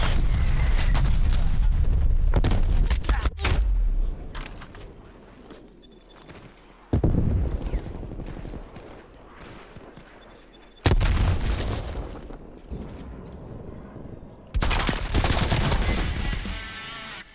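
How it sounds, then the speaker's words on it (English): Artillery strike explosions and gunfire in the Call of Duty: Black Ops Cold War beta on the Cartel map, with several loud, booming bursts separated by quieter stretches, each striking suddenly and then fading. "But a triple kill right there with the artillery strike."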